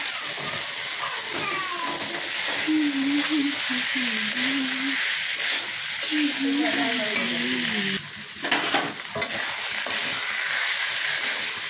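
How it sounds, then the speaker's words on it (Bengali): Boiled banana flower tossed into a spice paste frying in a pan, with a steady loud sizzle and hiss and scraping stirring throughout, while a voice talks over it in the middle. "এবার আমি মোচা সিদ্ধগুলো দিয়ে দিই।"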